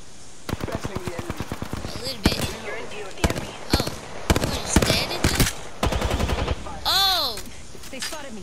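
Gunfire in the video game Apex Legends: rapid automatic bursts of shots, closely spaced and punchy, broken by short pauses and a few heavier single reports, with faint game effects in between.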